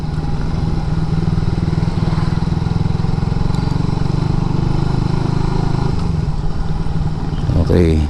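Motorcycle engine near a gas station running steadily close by, a continuous loud putter with a brief rise at the end.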